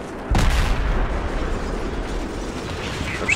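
Gunfire aimed at the player in Battlefield 3, opening with a sharp loud blast followed by a rumbling, crackling battlefield din that slowly fades.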